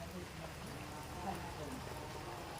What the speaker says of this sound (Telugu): ప్రకృతి చూసారా సమయానికి వర్షం పడుతుంది వర్షానికి ఆకులు తడిసి హాయిగా